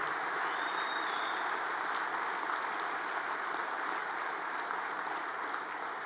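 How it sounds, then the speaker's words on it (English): A crowd at a union convention, the USW International Convention, applauds in a sustained, even wash of clapping that sounds slightly distant and roomy, with no talking over it. "I would like everybody to give a round of applause to those locals that have donated."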